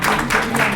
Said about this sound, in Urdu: آپ تمام احباب کی بھرپور تالیاں ہونی چاہیے